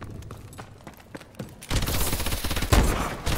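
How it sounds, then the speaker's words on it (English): Sniper rifle fire in the Call of Duty: Advanced Warfare multiplayer game, a few sharp shots followed by a loud, dense stretch of rapid gunfire and booms close up, with no voices. "Okay, I have no idea how to use a sniper."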